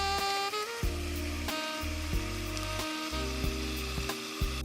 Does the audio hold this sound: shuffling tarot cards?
no